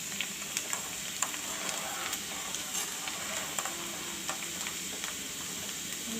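Banyan aerial roots frying gently in hot oil on low heat for an Ayurvedic hair oil, a soft steady hiss with light crackles and occasional faint utensil ticks, close and fairly quiet, with no voices.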